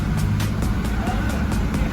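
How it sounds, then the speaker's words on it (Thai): A Toyota Revo pickup engine, started with the smart-key push button, runs at a steady close idle with an even low rumble. Someone speaks over it. "เครื่องยนต์ก็จะสตาร์ทติดนะครับ"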